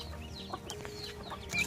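Chicks and ducklings crowded in a poultry coop make soft, busy peeps and chirps against a steady background hum, close by and continuous for a moment.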